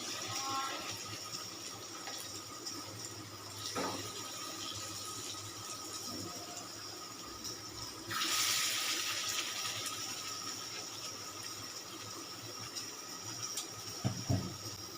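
Pieces of bottle gourd dhoka fry in hot oil with a continuous soft hiss and sizzle, close but fairly quiet, swelling briefly louder midway with a few light clinks near the end.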